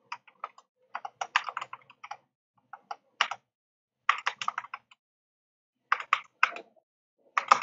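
Terminal command typed on a computer keyboard, close crisp key clicks in quick irregular bursts separated by short pauses, with no talk.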